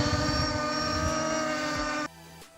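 Drone propellers whir with a steady high-pitched buzz, close and fairly loud, then cut out abruptly near the end.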